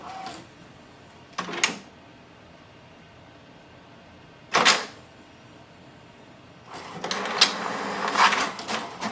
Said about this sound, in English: So wait for the printer.